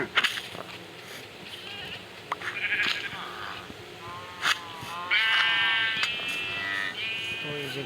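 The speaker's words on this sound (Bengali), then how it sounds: "তো এই যে গাইস আমরা শিপ নিয়ে চলে আসলাম।" Sheep bought for Eid ul Adha qurbani bleat several times from close by, with a drawn-out wavering cry near the end, amid background chatter and crowd noise at an animal market.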